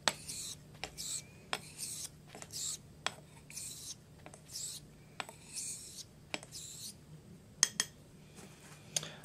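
A Dovo Barbarossa 5/8 straight razor is stroked across a honing stone, giving a steady rhythm of soft, close raspy swipes with short gaps between them and no voices.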